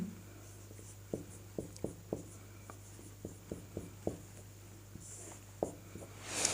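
A pen writes a Sanskrit word on a board or paper during a lesson, giving a dozen soft, quick taps and strokes in an uneven rhythm over a low steady hum.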